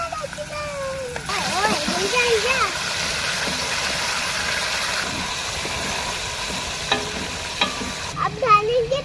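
Two hundred grams of chicken sizzle and fry in a pan with browned garlic while being stirred, a steady hiss with scraping bursts; a voice sings and talks over the cooking.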